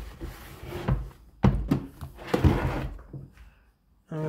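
Clean water tank for a vacuum cleaner being fitted into place, a few close plastic knocks, scrapes and thunks, ending with a firm clunk.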